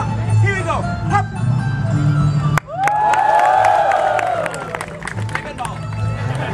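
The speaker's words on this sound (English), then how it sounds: "When I catch the ball, you clap not for me, but for Shuba" A crowd at an IIT Bombay Mood Indigo festival performance cheers and shouts, a loud, lively roar with scattered clapping that swells after a sharp bang midway, while a performer's voice cuts in at times.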